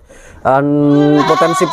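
A Kaligesing Etawah crossbreed goat lets out one loud, close, drawn-out bleat with a wavering tail, after a brief quiet start.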